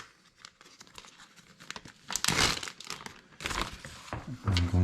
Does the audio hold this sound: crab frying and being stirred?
no